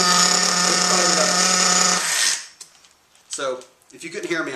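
Nitro RC engine firing up, a loud high-pitched buzzing whine held steady for about two seconds before cutting out, followed by sputtering bursts and a voice speaking.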